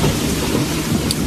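Heavy rain pours down steadily with a deep rumble of thunder rolling underneath, a loud, dense wash of sound with no voices.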